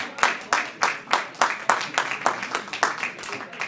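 Audience clapping at a dip-tasting evaluation contest, a steady burst of many hands applauding together, fairly close and lively, with a voice faintly mixed in.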